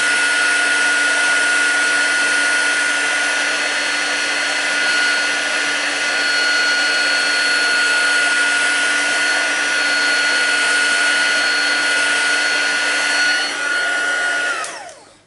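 A handheld heat tool melts embossing powder on a stamped image, a loud, steady whirring blower hum that holds at one pitch for about fourteen seconds before winding down as it is switched off.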